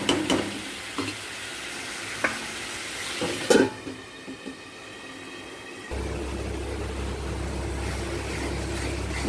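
Spice masala fries in a covered pan: a few sharp clinks and soft sizzling give way to a steady, low, muffled hiss under the lid, with no talking.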